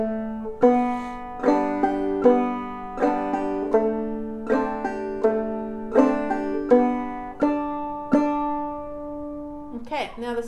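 A clawhammer-style banjo plays the first part of the old-time tune Mary: a steady run of bright, plucked notes with quick decays, close and clear, and no talking over it.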